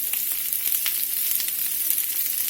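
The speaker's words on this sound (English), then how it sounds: "So we're just going to saute these over a medium-low heat" Beef stew ingredients sauteing in a crowded pan over medium-low heat give a steady, close frying sizzle with faint crackles throughout, no talk over it.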